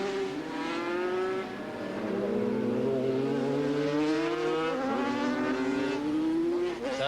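Four-stroke racing motorcycle in a 1987 street race in Wanganui, engine note rising and falling through gear changes as it accelerates past, loud and fairly close, with no talk.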